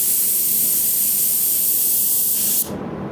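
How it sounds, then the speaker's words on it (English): Paint spray gun wide open at 18 psi laying down a test pattern from about five inches, a loud, steady close hiss of atomized spray that cuts off abruptly near the end. "Now we are wide open on everything at 18 pounds of pressure"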